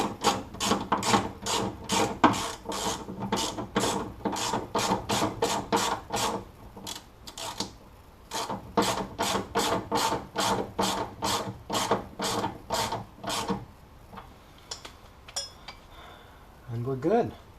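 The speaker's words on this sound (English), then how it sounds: "The castle nut back on." Castle nut being fitted back onto the front suspension of a Datsun 240Z, giving a fast train of metallic ratchet-like clicks and rasps in steady bursts, pausing briefly midway, then trailing off into quiet clinks.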